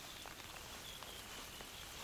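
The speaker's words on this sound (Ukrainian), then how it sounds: "Невеличкий дощик начався." Light autumn rain patters softly and steadily on the surface near a fishing spot, a faint, even hiss of scattered drops with no voices.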